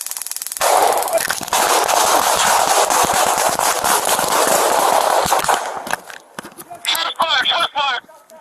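Rapid volley of gunshots during a police foot chase in Hawaii Volcanoes National Park, with loud, dense cracks over shouting, then scattered pops and frantic voices as it tapers off.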